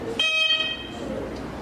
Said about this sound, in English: Can we hear the bell for Bethel Hill Academy?